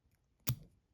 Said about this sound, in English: I'm gonna cut this about the hook length